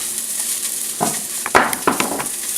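Onions fry in hot oil in a pan for turkey stuffing soup, a steady close sizzle broken by a few scraping stirs and a light clatter.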